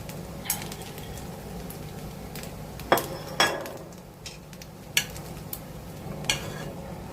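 Light, scattered taps and clicks of chopsticks against a wok while stirring salmon udon in sauce, a few sharper knocks standing out over a quiet low hum.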